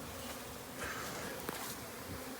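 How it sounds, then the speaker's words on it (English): Bees buzzing steadily around a shed floor being pulled up during a removal, a continuous close insect drone with no talking. "So hopefully all these bees climb up here."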